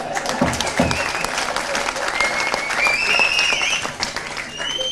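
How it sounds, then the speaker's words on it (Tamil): An audience at a Tamil film audio launch for Sandamarutham breaks into applause, a broad wash of clapping with scattered cheers and whistles rising over it while a voice speaks faintly beneath. "கைத்தறிச்சல பேசினா கைத்தட்டெல்லாம் இருக்கு பாரு"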